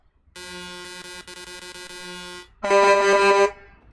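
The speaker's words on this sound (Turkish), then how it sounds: "Havalı kornayı çaldırma bana bu havada." Air horn of a MAN TGX Euro 6 truck in a driving game blares twice, a long steady harmonic blast followed by a shorter, louder one, close and alone.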